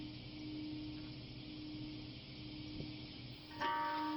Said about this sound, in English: a bell rings out through the streets of Hiroshima